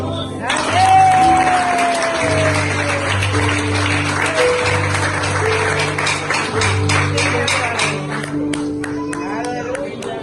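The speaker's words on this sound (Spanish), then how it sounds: "Un aplauso." A church congregation claps during an evangelistic service, steady crowd applause mixed with sustained musical tones from instruments underneath, gradually thinning into scattered individual claps toward the end.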